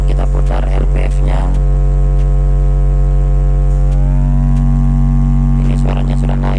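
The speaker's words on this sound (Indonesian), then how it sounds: "Kita nyalakan lagi sinyal generator." Steady electronic test tone from a signal generator played through a car amplifier while setting the low-pass filter on a monoblock power amp, a sustained hum with stacked harmonics, rising in pitch midway, loud and continuous with brief voice fragments at the start and end.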